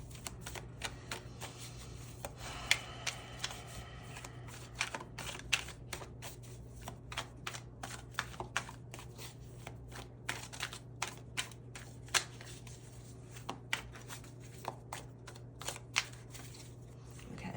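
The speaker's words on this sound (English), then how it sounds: "Told me to stop shuffling, so I'm going to start pulling cards" Rapid papery riffling of tarot cards being shuffled, repeated bursts of soft flicks and taps over a steady low hum, no talking.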